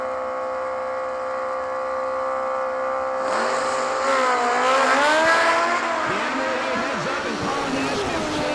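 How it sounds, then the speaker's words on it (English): A Chevrolet Monza drag car and a motorcycle launch side by side at a New Year Nationals drag meet. Engine roar swells sharply at about three seconds and stays loud, with rising revving tones and crowd or commentary noise underneath. "So the Animal in the Monza gets the lead first, left-hand side"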